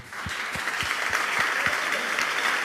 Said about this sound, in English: So give a big applause to Peter Warner.